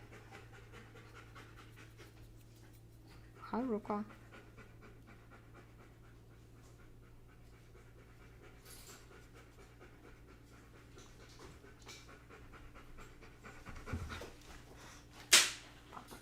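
A wet dog, just in from the rain, pants briefly up close, a short burst of quick breaths, with a brief greeting spoken and a sharp click near the end over a low steady hum.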